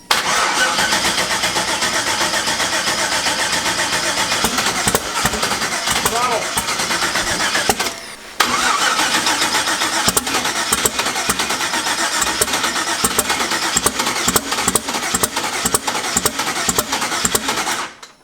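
A turbocharged car engine cranks steadily and tries to catch while a fuel pump is being tested, with a loud continuous starter whir that briefly pauses midway and then resumes cranking, with people talking over it.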